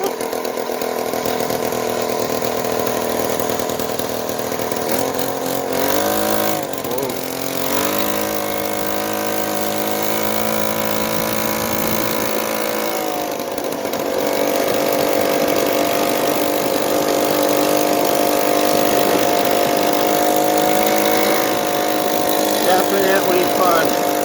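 A 139cc two-stroke engine with CVT transmission on its first ride: a loud, buzzy drone that dips and swoops in pitch as the throttle eases off and picks up again, running continuously close by.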